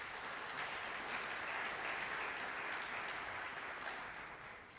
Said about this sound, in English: We can give them a round of applause.